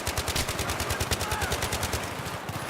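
Sustained suppressive machine gun fire in the shooter game Battlefield 3, a rapid, evenly spaced burst of loud shots running continuously through the moment, slightly thinning toward the end.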